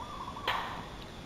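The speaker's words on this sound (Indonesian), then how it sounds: "suara orang yang sedang bekerja untuk memecahkan kayu" A single faint, hollow knock of an axe striking wood comes from someone splitting firewood at a distance, a brief thud against quiet ambient hiss.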